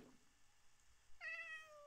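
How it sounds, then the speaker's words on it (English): A cat meows once in the Minecraft video game, a faint, drawn-out in-game call rising out of quiet background ambience, with no voices. "I hear a cat."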